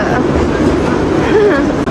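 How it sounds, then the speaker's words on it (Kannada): A brief stretch of loud, close train rumble with a faint squealing tone and a murmur of voices underneath, as a train arrives at a platform in Bengaluru. "ಟ್ರೈನ್ ಬಂತು"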